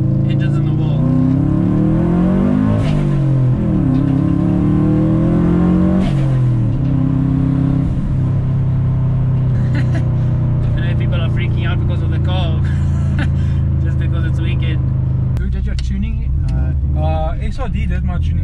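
A tuned Subaru GC8 streetfighter with a five-speed gearbox revs hard and close, its engine climbing and falling in pitch through repeated throttle blips before settling into a loud, rumbling idle, with brief clattering noises near the end.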